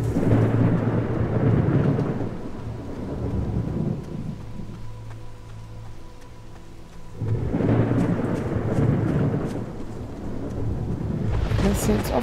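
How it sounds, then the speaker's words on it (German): A thunderstorm in the video game Pineview Drive, with heavy rain and deep rolling thunder that swells, fades briefly, then rumbles back loudly, alone without talk. "Vielleicht ist der Blitz ja da hinten eingeschlagen."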